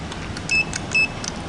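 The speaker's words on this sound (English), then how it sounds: "They got beep and call buttons here as well." Two short, high electronic beeps from an Otis lift call button, about half a second apart, ring out clearly over a low background hum.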